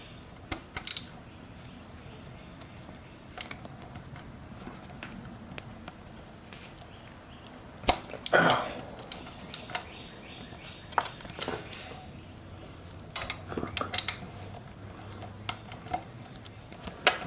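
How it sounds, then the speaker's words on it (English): A 10mm socket on a short extension works parts loose on a Yamaha R motorcycle during an EXUP eliminator install, giving scattered quiet metallic clicks and ticks in a hushed garage, with no talking. "A 10mm socket with a little extension."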